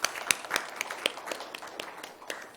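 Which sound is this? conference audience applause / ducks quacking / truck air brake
conference audience applause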